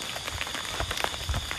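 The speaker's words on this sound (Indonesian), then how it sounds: "Hujan lagi wak, hujan lagi coy." Rain falls at night in a steady patter of drops on a surface, a soft continuous hiss with scattered taps, fairly close and unbroken, with no voices.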